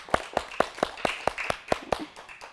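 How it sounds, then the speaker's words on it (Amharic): A small group claps for a little girl on an Ethiopian children's TV show, about nine sharp, evenly spaced claps in a steady rhythm, close and clear, with no talking over them. "አጨብጭቡላት ለዩ።"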